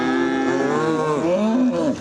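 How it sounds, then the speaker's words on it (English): Cattle moo loudly and close during a herd drive up a canyon highway, several overlapping drawn-out calls forming one long bellowing stretch. "mainly cows moving through Logan Canyon today"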